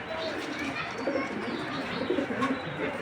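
Racing pigeons of a Chinese breed coo softly in a loft, low rolling calls overlapping continuously at close range.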